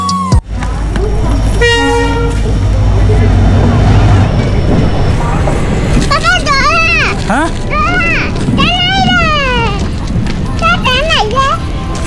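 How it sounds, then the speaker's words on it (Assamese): A train pulls into a station with a long horn toot near the start, then its rumble continues as people talk and children's voices ring out over the arrival. "ট্ৰেইন আহি পালোঁ"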